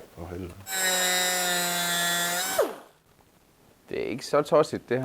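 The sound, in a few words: saw cutting wood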